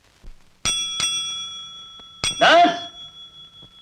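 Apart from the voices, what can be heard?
bell being rung at a dispensary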